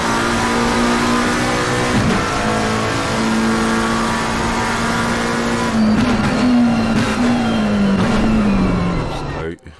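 A McLaren race car engine in the Assetto Corsa Competizione video game during a British GT round at Snetterton, heard onboard as a loud, sustained whine that rises and falls through gear changes, with a commentator speaking over it.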